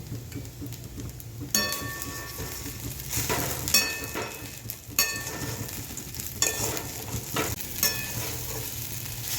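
Sabudana khichdi stir-fried in a pan with crushed peanuts, a continuous low sizzle under rhythmic spatula scrapes and metallic clinks against the pan every second or two, close and clear with no speech.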